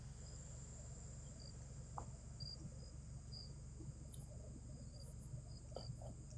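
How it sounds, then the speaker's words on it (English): Crickets chirp as a sound effect, a steady high-pitched trill running continuously at a low, even level with faint scattered clicks and no talking. "I hear crickets."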